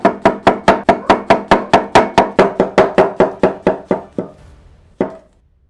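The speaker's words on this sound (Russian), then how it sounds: "Каждый разрезаем пополам. И на тонкие пластинки." A knife cuts button mushrooms into thin slices on a cutting board, about twenty crisp, evenly spaced chops in quick rhythm, then a short pause and one last chop.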